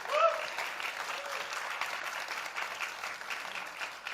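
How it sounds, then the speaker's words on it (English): A conference audience in a hall gives a round of applause, a steady wash of clapping that swells at the start and then carries on at moderate volume before fading slightly. "Big round of applause for Stanislav, who is here in the room with"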